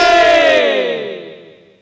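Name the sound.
crowd chanting in praise of Rama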